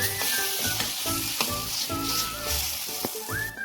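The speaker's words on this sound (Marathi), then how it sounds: "आपण बारीक केलेली वांगे त्यात घालून घेऊ वांगे वांगे टाकल्यानंतर छान मिक्स करून घेऊ" Chopped eggplant sizzles steadily in a hot pan while being stirred and mixed, with broadband frying hiss throughout and recurring spatula scrapes and clinks, close and fairly loud with no voices.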